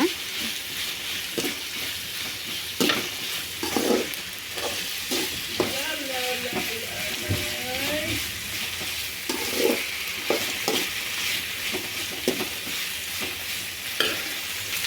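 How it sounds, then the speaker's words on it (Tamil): Tomatoes sautéing in a pan for a soya and egg rice dish, with a steady sizzle and a spoon stirring and scraping at an uneven pace throughout, close and alone with no talking. "அதுக்கப்புறம் தக்காளி போட்டுருவோம். இப்போ இதை நல்லா போட்டு நம்ம வதக்கிடலாம்"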